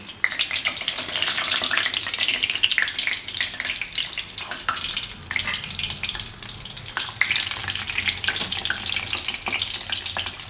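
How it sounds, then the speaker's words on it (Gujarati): Slit green chillies deep-frying in hot oil for a Gujarati farali kadhi pakoda dish, a steady dense sizzle and crackle throughout with occasional stirring clinks, close and fairly loud, no talk. "હવે આપણે આ તેલમાં આપણે મરચાં તરી નાખીશું"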